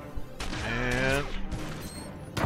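Blaster gunfire in the game Star Wars: The Old Republic, a short burst of sharp shots mixed with game effects, while a voice speaks over part of it.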